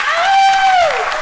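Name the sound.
louder audience applause for Neal Bloom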